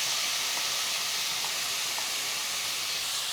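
Chopped garlic and marinated chicken fry in a hot pan with a continuous, even hissing sizzle that stays close and unbroken, with no one talking.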